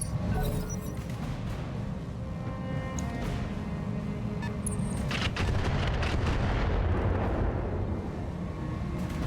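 Missile launches and booming explosions in the BattleTech video game, a continuous loud barrage of rumbling blasts and bursts with dense roaring noise.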